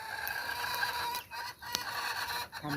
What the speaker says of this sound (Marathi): तेव्हा कोंबडीचा आवाज येतो